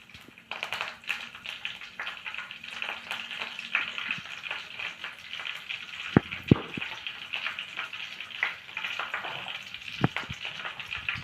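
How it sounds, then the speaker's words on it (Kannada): Mustard seeds and curry leaves crackle and sizzle in hot oil for a veg Maggi masala, a continuous frying hiss with scattered sharp pops and spatters, close and moderately loud. "ಎಣ್ಣೆ ಬಿಸಿ ಆದಮೇಲೆ ಒಂದೆರಡು ಸಾಸಿವೆ ಕಾಳನ್ನು ಹಾಕೋಣ. ಆಮೇಲೆ ಇದರಲ್ಲಿ ಕರಿಬೇವು ಹೂವನ್ನ ಹಾಕೋಣ."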